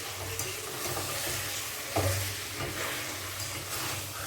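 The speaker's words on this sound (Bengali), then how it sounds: "মাংস কষা চলছে, এখনো হয়নি, করতে সময় লাগবে 1 ঘন্টা" Mutton pieces are stir-fried in a kadai with a steady loud sizzle, broken by occasional scraping strokes of a spatula against the pan.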